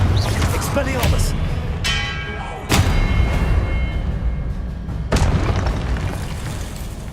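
A Confringo fire spell bursts in the video game Hogwarts Legacy, giving loud booming explosions, about three sharp blasts spread through a rumbling battle scene, with a voice shouting at times.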